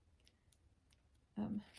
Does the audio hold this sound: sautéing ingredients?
no